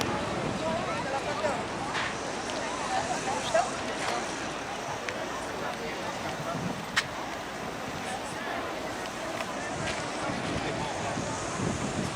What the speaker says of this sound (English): Cool wind is blowing fast.